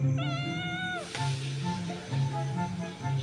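A cat gives a drawn-out meow up close, followed by softer repeated mewing against a quiet room background.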